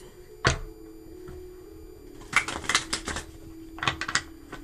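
Brisk riffling of tarot cards being shuffled, a short flutter early, then two longer rapid bursts of papery clicks, close and fairly quiet.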